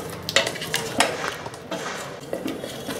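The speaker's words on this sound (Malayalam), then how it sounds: "എന്നിട്ടൊന്ന് മിക്സ് ചെയ്യാം." Spoon stirring and mashing a Kerala chicken and potato stew in a pot, with soft repeated scraping and knocks against the pot under a faint sizzle.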